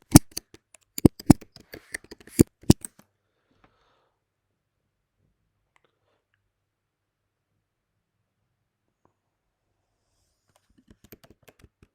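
Someone types a password on a computer keyboard, producing a quick burst of close, crisp key clicks for a few seconds, then a long silence and a few more light taps at the end.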